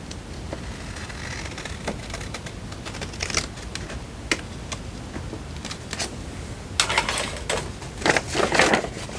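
Paper being cut by hand while making a zine, a run of dry crisp snips and rustles scattered over a low background, growing denser and louder toward the end, close up and without talking.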